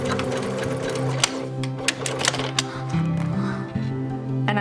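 Sewing machine stitching fabric for a cosmetic bag, a steady close mechanical whirr with a humming motor tone that shifts pitch as the speed changes, punctuated by small clicks, with no talking.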